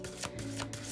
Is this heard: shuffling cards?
yes